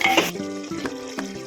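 A spoon stirs chicken gravy and water inside a pressure cooker, giving a few scraping strokes against the metal pot. Steady tonal background sound runs underneath.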